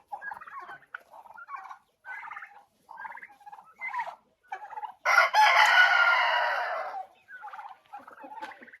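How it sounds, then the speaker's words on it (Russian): Hens out walking on grass cluck and call in short bursts, then one loud, sustained crow-like call from a nearby bird, followed by softer clucks. "Курочки все гуляют."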